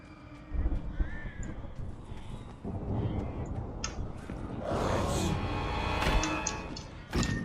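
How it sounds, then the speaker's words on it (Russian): Crows caw harshly in the Alan Wake game, several rough calls scattered over a dense, noisy ambient bed, some near and loud, others farther off. "Ебучие птички."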